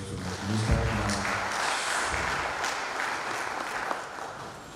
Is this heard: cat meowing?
no